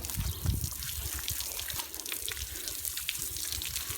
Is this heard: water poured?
yes